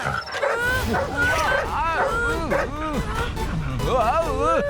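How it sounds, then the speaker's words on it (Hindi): A cartoon dog yips and whimpers in quick, bending calls, mixed in with animated character voices talking over and around it. "अरे डॉगी है।"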